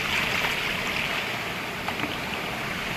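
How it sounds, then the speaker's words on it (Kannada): Continuous rushing water, a steady broadband roar like a stream pouring over rocks, with no pauses. "ಇದು ಮೇಲಿನ ತೋಡು ಕೆಳಗೆ ಹೋಗಿ ಅಲ್ಲಿ ಕೂಡ ತುಂಬ ನೀರಿದೆ ಜಲಪಾತ ಥರ ಇದೆ"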